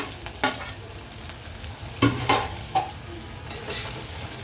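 Onion and vegetables stir-fried in a pan for pulav, a steady sizzle with a few louder scrapes and stirring clatters near the start and middle, close and alone without voices.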